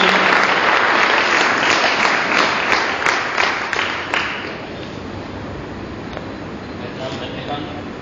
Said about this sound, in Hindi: इनके लिए आप जोड़ा तालियां